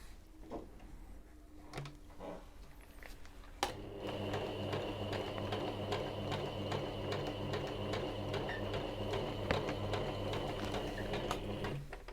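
After a few quiet clicks, a sewing machine set to a zigzag stitch starts up and runs steadily for the rest of the clip, a close, even mechanical hum and rattle without talk.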